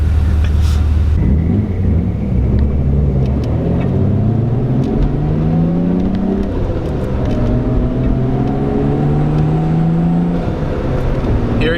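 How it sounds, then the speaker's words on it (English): A turbocharged car revs hard and pulls through the gears, the engine roar sweeping upward in repeated rising climbs with a whistling turbo spool and a brief blow-off hiss between pulls, loud and close. "Hearing the turbo spool and the blow-off valve"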